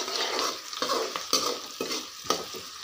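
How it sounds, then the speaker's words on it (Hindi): Onions roasting in a pan, a close sizzle broken by regular spatula stirs and scrapes that come in a loose rhythm about every half second, with no voices. "चलिए गाइस, मैं इस प्याज को रोस्ट कर लेता हूँ बढ़िया से"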